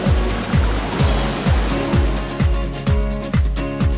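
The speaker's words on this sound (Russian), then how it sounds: "По дну ущелья течет чистая река Мачара." The clear Machara river runs along the bottom of a gorge in Abkhazia, giving a loud, steady broadband rush of flowing water, with a regular thumping beat repeating about twice a second over it.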